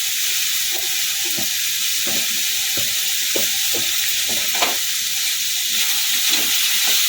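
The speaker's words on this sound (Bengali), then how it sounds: "একটু নেড়ে করে নেবো" Olives for pickle being stirred in a hot pan with salt and turmeric, a loud steady hissing sizzle with regular scraping strokes of a spatula, no voices.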